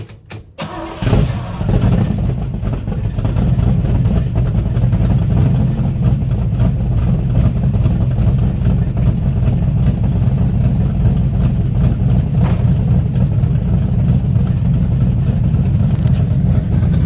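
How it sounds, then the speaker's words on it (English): A Chevrolet Camaro fitted with 2.5-inch Dynamax bullet mufflers cranks and fires up, then holds a loud, continuous rumbling rev and roar close by for over fifteen seconds. "fire up that Camaro and fucking rev the fuck out of it"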